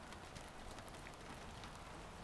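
Steady rain falls outdoors near a camera on a Thursday, a continuous broadband hiss of drops with no distinct breaks, moderately faint and unbroken by speech.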